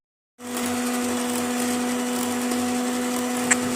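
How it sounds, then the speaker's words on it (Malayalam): An electric hand mixer whips half a cup of whipping cream in a bowl set over ice, starting abruptly and holding a steady, loud motor whine with no pause. "1/2 കപ്പ് വിപ്പിംഗ് ക്രീം ഐസിൻ്റെ മുകളിൽ വെച്ച് ഹാൻഡ് മിക്സർ കൊണ്ടൊന്ന് അടിച്ച് കട്ടിയാക്കി പതപ്പിച്ചെടുക്കാം"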